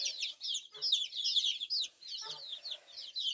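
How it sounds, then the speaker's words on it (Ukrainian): Young chicks cheep and cluck softly in a continuous chatter of high peeping calls, with occasional faint pecking sounds. "Курчатка їдять."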